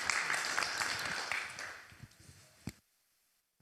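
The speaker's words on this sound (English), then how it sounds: "If we can have a round of applause for our esteemed speakers." An audience applauding speakers after a panel discussion session on technology, dense distant clapping that fades away over a couple of seconds, a last few scattered claps, then silence.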